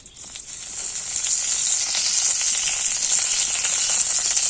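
Dried red chillies and bay leaves sizzle steadily in hot oil for a vegetarian dal tempering, a loud, continuous bright crackle with no talking.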